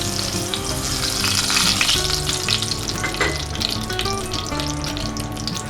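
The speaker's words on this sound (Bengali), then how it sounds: "আমি এই তেলে রাঁধুনি ফোড়ন দিয়ে দিলাম।" Radhuni seeds hit hot oil left from frying garlic and sizzle loudly and continuously close up, a dense bright crackle that stays strong throughout.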